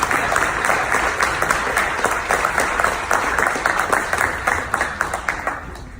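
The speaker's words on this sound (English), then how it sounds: "So give yourselves a round of applause for a successful season." Banquet audience at a North Yonkers sports banquet applauds a successful season, steady dense clapping throughout, fairly loud and even, fading slightly toward the end.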